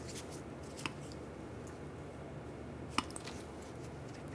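Cutters snip two fuel pump harness wires on a 1999-2006 Chevrolet Silverado 1500, making two short, crisp clicks a couple of seconds apart in a quiet workspace.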